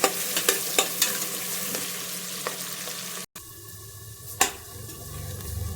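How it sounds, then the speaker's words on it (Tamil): Onions sizzle steadily in a hot pan for chicken biryani, with a few sharp stirring clinks early on, a brief cut midway, then continued frying close up. "பாருங்கள், வெங்காயம் நல்லா வதங்கிடுச்சு"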